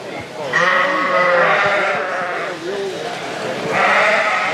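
Dorset fall ewe lambs bleat loudly and continuously in a livestock show ring, with overlapping drawn-out calls from several animals close by.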